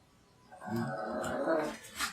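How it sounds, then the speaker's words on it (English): Dogs growling nearby, a low rumbling snarl lasting about two seconds, moderately faint and with no talking. "what are you dogs doing over there? Like, seriously, can't you go into the growling room?"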